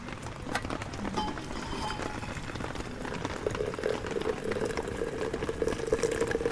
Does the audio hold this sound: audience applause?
no